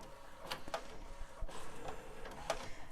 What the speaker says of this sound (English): That's just because it's too thick to feed through the printer.